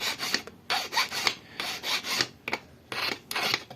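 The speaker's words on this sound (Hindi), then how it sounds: "रेती मारना बड़ी बात नहीं है, जो जहां खुचहा होता है बस उसी को मारा जाता है" A hand file rasps back and forth on a silver ring, close and steady, with about a dozen short scraping strokes in an even rhythm and no talk.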